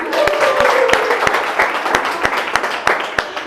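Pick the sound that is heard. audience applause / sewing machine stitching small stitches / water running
audience applause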